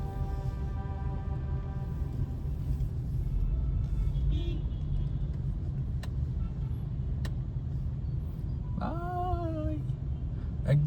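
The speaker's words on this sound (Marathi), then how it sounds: "एकदम बंपर टू बंपर ट्रॅफिक चाललंय बरं का" Bumper-to-bumper car traffic on a road during a trip to Kokan, heard as a constant low engine rumble from inside a vehicle, with a couple of brief clicks and a short rising horn-like tone near the end.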